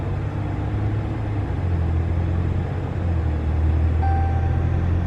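A 2016 Dodge Ram EcoDiesel pickup runs on a dyno with a steady low diesel drone and rumble, close and continuous, with no voices.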